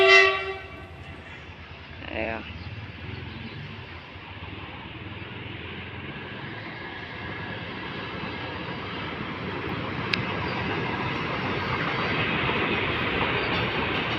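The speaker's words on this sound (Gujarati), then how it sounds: "માલગાડી જાય છે મિત્રો" A freight train carrying petrol rumbles steadily past at a moderate distance, with a short horn note at the start and a continuous rolling noise throughout.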